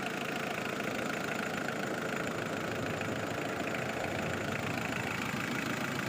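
The diesel engine of a three-door Mitsubishi Pajero 4x4 idles steadily nearby, an even, unbroken rumble with a faint knocking texture and no voices over it.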